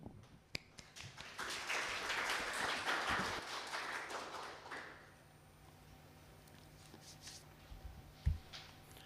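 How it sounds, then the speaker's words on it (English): Audience at a Python conference talk applauding for a few seconds, a dense wash of clapping that fades out, followed by quiet room noise and a couple of taps. "Give him a big round of applause to start with presentation."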